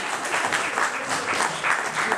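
Audience at a celebration of life memorial clapping together, a steady dense wash of applause that stays even and fairly loud throughout, with no voices on top.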